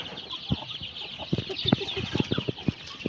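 Several mother hens cluck in short, irregular bursts close by at a poultry farm, over a soft background hiss from the coop.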